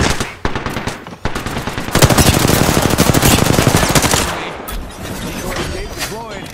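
Gunfire in the video game Apex Legends, a loud close burst of rapid automatic fire lasting a couple of seconds amid scattered single shots, with in-game voice lines spoken over it.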